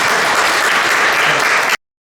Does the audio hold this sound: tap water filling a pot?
no